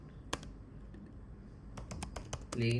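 Keys tapped on a computer keyboard: one sharp click, a pause, then a quick run of several keystrokes, close and fairly quiet.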